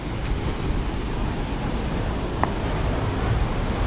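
Sea surf on the Ratnagiri coast, a continuous broadband wash of waves with wind buffeting the microphone, steady and fairly loud, one faint brief tone midway, no speech.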